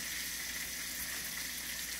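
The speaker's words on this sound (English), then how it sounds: "We can go ahead and fry them on up for you guys" Garlic lemon pepper ribs deep frying in hot oil in a skillet, a steady, dense sizzle and crackle holding even and close throughout, with no voices.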